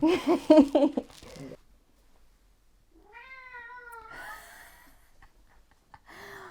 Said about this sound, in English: This cat loves us.